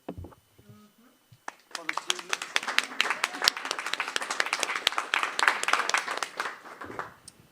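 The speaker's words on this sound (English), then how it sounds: "So I would like to make an applause for the team." Applause from a workshop audience clapping for the team, a dense burst of many hands that builds after a brief pause and holds steady for several seconds before tapering off near the end.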